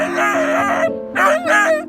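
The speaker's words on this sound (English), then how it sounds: "Listen to the heartbreaking cries of this injured, scared puppy feeling cold." An injured, cold puppy cries in high, wavering whimpers, two or three close, loud yelps with brief pauses between them.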